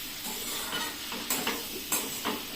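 Tomatoes are stirred in a hot frying pan for a Bengali cabbage luchi filling, a steady sizzle carrying a few scraping spoon strokes against the pan.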